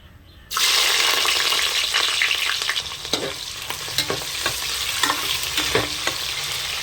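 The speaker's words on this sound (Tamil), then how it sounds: "இப்போ வந்து வெங்காயம் போட்டுக்கலாம்." Chopped onions hit hot oil in a home-kitchen pan with a sudden loud sizzle that keeps hissing steadily, broken by repeated scraping stirs of a spoon against the pan.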